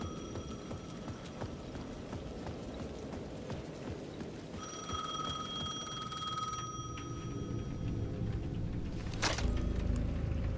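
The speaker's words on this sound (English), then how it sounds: "The payphone at the edge of the plaza was ringing again." A payphone in Alan Wake 2 rings at the edge of a plaza, its electronic bell tone starting partway through and repeating over a low, murky game ambience, moderately close and without speech.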